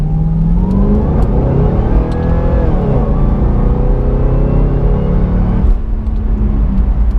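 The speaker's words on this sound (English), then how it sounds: "That supercharger picks up." A supercharged Cadillac CTS-V engine roars loudly as it accelerates, its pitch climbing steadily through the revs with a whining tone, heard up close from inside.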